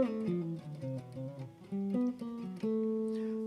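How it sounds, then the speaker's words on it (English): Clean jazz guitar lick moving through chromatic thirds: a steady run of picked two-note steps, mid-loud and close, with no talking over it. "he's doing a lot of chromatic thirds. You hear a lot of that in his playing."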